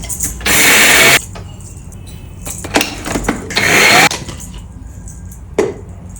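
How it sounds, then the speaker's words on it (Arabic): An electric coffee or spice grinder whirs in loud bursts as it grinds toasted cumin, coriander, sesame and peanuts, with two long runs and a few short pulses between quieter pauses. "هنبتدي نطحن الحاجه كلها في المطحنه بتاعه البن او البهارات"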